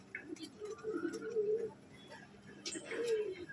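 Madras pigeons cooing close by in a soft, repeated, throaty rolling pattern, with faint background chatter and other small noises around them.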